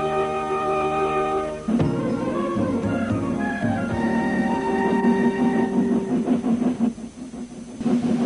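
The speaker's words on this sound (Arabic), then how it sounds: "هذا هو القطار الذي ستستقله." An animated cartoon train's engine rumbles steadily with a low mechanical drone, a tonal horn-like hum at the start, continuous and fairly close throughout.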